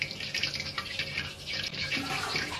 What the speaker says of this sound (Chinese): 用水呢淘洗一下